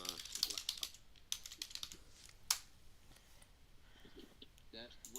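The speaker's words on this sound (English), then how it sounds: "it's just the keys hitting the table" Small keys clack and rattle against a small table in a few sharp bursts, with one loud hit near the middle, close up under a low room murmur while a voice talks faintly.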